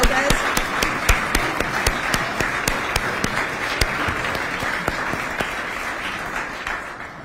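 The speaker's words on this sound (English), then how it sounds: "let's give her a round of applause" A crowd applauds at a mayor's interfaith prayer breakfast in honor of Health Department Director Pat Lopez, with steady, fairly loud clapping that persists for several seconds and slowly thins toward the end.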